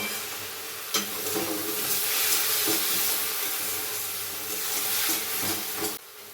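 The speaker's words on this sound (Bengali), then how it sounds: "সব দিয়ে কষানোটাই মেন, খুব ভালো করে কষাতে হবে" Ginger, garlic and chili paste frying with chicken for murgh musallam, a continuous close sizzle and hiss with occasional stirring scrapes that cuts off abruptly at the end.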